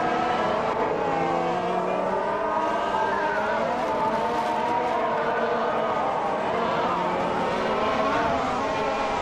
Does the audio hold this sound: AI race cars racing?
yes